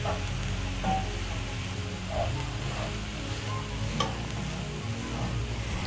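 Half a kilogram of minced beef sizzles and fries in a pan while being stirred, a steady dense crackle with occasional scrape and clatter of the spoon, close and continuous with no talking.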